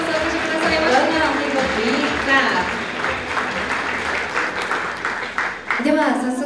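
An audience at a Paris Saint-Germain team event in Japan applauds steadily as manga artist Yoichi Takahashi is welcomed as a guest, with dense clapping throughout and some voices mixed in.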